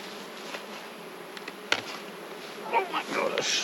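Honey bees buzz around an opened hive box during an inspection, a faint continuous hum with a sharp knock midway and louder close passes toward the end.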